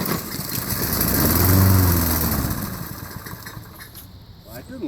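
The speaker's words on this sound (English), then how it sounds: "Should I start the mower?" An old lawnmower engine coughs into life and runs briefly with a loud, rough, swelling drone close by. It then sputters and fades toward the end.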